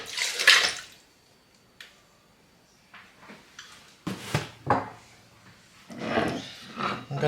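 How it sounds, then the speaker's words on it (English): Milk poured into a cup for a Cadbury caramel frappe with coffee, heard as a few short splashing, gurgling bursts at close range separated by quiet gaps, with no talking. "Okay, so I'll add the milk."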